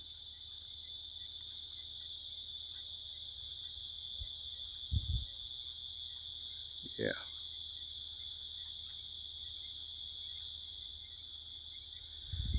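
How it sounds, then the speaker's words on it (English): A steady, high-pitched cricket chorus trills continuously in the background at sunset in Jamaica, with a few soft bumps and a brief word spoken. "And you can hear crickets in the background"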